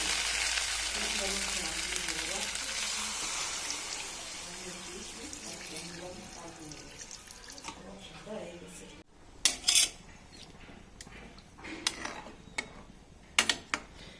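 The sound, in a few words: adding water to frying spiced fish masala in pan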